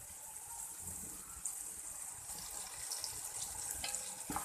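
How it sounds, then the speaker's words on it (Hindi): Water poured into frying masala in a pan, a running gush with light sizzle and clinks, moderately near and steady, no talking. "अब थोड़ा सा इसमें वाटर ऐड करूँगी।"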